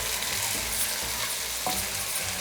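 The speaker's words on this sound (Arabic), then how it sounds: "ودوكا نقليه مع هذه الخضره باش نرمي عليه الماء" Vegetables frying in a pot, giving a dense continuous sizzle that stays loud and even throughout, with a few faint stirring touches and no voices.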